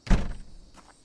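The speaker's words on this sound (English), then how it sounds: "There's also a new door sound for doors made of wooden planks." A single heavy wooden thunk from a plank door in the zombie survival game Project Zomboid, a close dull impact that decays quickly, with a faint knock following.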